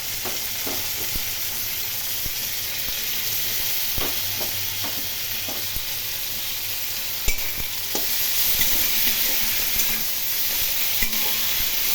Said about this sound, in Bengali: এখন একটু ভাজা ভাজা করে নেব আলু চিংড়ি ও পেঁয়াজ